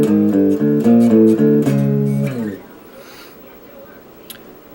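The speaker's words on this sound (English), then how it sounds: "we're back into the interlude riff, only this time it's going to be clean" A clean electric guitar picks a quick arpeggiated interlude riff, bright chiming notes, then lets the last chord ring and fade into quiet noise.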